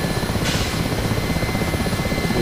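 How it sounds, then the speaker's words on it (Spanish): A Mi-8 helicopter in the DCS flight simulator game drones with a loud, continuous rotor and engine roar, steady and close throughout, with no talking. "Que tiene demasiada potencia este helicóptero o algo, ¿no?"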